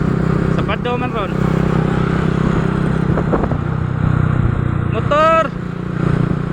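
A motorcycle engine idles and revs steadily throughout, with a rider's voice speaking over it and clattering in between, all close and loud.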